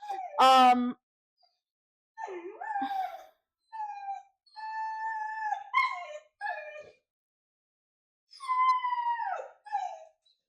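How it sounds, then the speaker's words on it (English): A dog whines and whimpers in several drawn-out, high-pitched bursts, starting with a sharp yelp, with short pauses in between. "you're gonna hear the dog whining"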